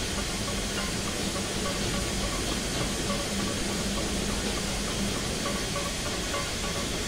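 Union Pacific Big Boy steam locomotive rolling forward in Train Simulator 2021, a steady, dense rumble and hiss with faint mechanical clanking, constant and close for the whole stretch, with no talk over it.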